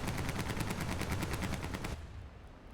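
Aircraft guns in the War Thunder video game firing continuously in a rapid, loud, evenly spaced burst for about two seconds, then cutting off and leaving a fading rumble.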